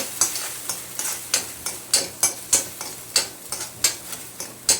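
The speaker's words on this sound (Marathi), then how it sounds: "कढईमध्ये घालायचं आहे सर्व मिक्सिंग केलेलं साहित्य" A sabudana mixture with curd, rock salt and chili flakes cooks in a kadhai. A spoon clacks against the pan in a steady stirring rhythm over a faint sizzle, with no talking.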